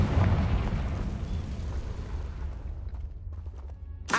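Blasting-spell explosion in a Harry Potter-style video game, a loud booming burst up front that rumbles and fades over a few seconds, ending with a brief crackle.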